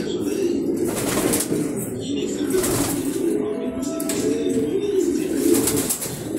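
Female racer pigeons cooing steadily inside a loft, a low continuous murmur with occasional wing flutters under nearby talk.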